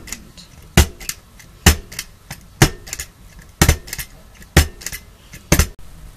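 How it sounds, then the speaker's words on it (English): Stapler driving staples through folded duct tape along the sides of a tote bag, seven or eight sharp crunching clacks at a regular hand-paced rhythm, loud and close, with quiet handling between them. "continue stapling all the way around"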